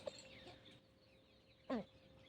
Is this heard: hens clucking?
yes